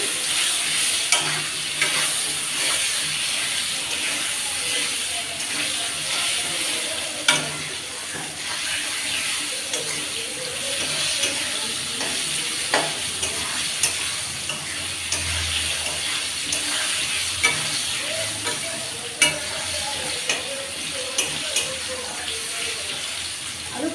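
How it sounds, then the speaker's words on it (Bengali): Potatoes with a little turmeric fry in a pan, a continuous sizzle with frequent stirring scrapes and knocks over about half a minute. "দিয়ে একটু ভাজা হোক আলুটা ভালো করে"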